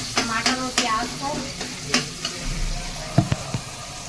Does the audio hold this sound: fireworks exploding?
no